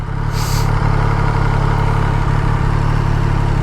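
An MV Agusta Rivale 800 motorcycle idles close by with a steady, even engine rumble and light mechanical clatter that holds through the whole stretch, with no voices over it.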